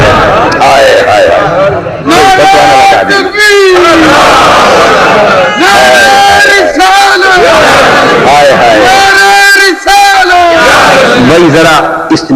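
A large crowd chants a religious slogan in loud, rhythmic unison, repeated in surging waves with brief pauses between, filling the space with massed voices.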